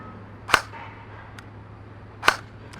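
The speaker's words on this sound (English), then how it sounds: "even for an AEG, it's got a pretty audible reset" An EMG Helios F4-15 airsoft AEG rifle fires two sharp, close semi-auto shots about two seconds apart, each a crisp snap, with faint clicks of the trigger resetting between them.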